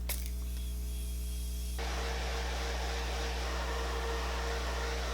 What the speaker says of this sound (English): So I'm gonna go in with the Morphe setting spray, and I'm just going to set the dew side of my face.